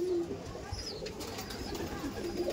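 Pigeons coo softly in a loft where more than a hundred are kept, a few low throaty calls repeating against a quiet background.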